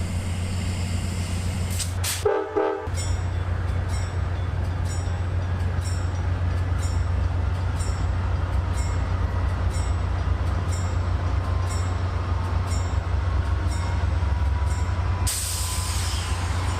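Amtrak passenger train sitting at night between Chicago and Cleveland, a steady low rumble of idling equipment and ventilation with a brief clunk early on and a rising hiss of air near the end.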